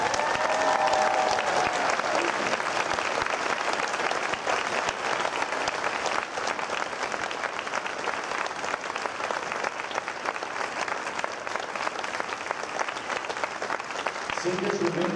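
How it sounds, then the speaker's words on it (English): A school audience at a marching band concert gives the seniors a long, sustained round of applause, steady clapping and some voices that carry on for about fifteen seconds before fading near the end. "would you please stand and accept our applause?"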